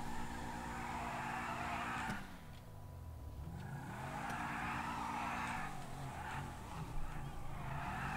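A car in GTA V revving its engine for a fast start, with a steady motor drone that dips and climbs in pitch as it launches and accelerates, close and fairly loud, alongside tyre squeal.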